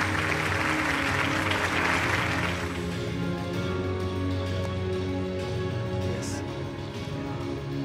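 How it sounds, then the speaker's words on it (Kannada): Audience applause at the Chittara Star Awards 2024 ceremony as the Most Promising Star award is announced, a dense broad clapping wash loudest in the first few seconds, then thinning under a steady background of hall noise and low murmur. "ಬನ್ನಿ ಚಪ್ಪಾಳೆ."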